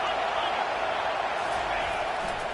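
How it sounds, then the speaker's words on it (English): A loud stadium crowd roars steadily at a Texas A&M college football game, a dense sustained wash of cheering as the defense takes the field, with a commentator's voice faint beneath. "It is getting loud as this crowd tries to help its defense."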